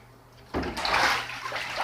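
A pet goose bathing in a bathtub splashes water in a sudden loud burst, followed by sloshing and dripping in a small tiled bathroom.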